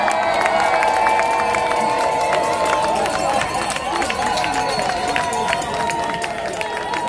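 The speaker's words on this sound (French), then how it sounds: "On applaudit." Crowd at a Congolese march through Brussels applauding and cheering steadily, a dense wash of clapping with whistle-like tones, voices carrying throughout.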